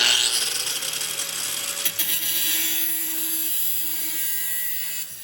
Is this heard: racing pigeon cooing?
no